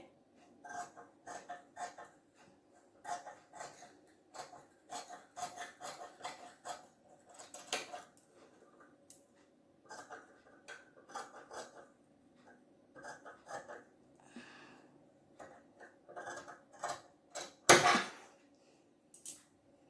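Scissors cut blouse fabric along the back armhole with a run of short, close snips, spaced irregularly, with quiet gaps and one louder rustle of cloth handling near the end.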